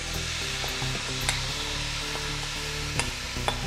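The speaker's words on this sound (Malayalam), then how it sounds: "ഇത് നമുക്ക് മസാലയുമായി ഒന്ന് നന്നായിട്ടൊന്ന് മിക്സ് ചെയ്യാം." Half a kilo of cut long beans are stirred into browned masala in a pan for a Kerala stir-fry, with a steady close sizzle under a few sharp spatula knocks and scrapes against the pan, no talking.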